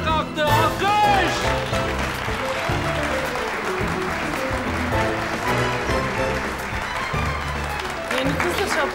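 A crowd applauds loudly at an office dance party as the boss joins in, with sustained clapping over music and voices.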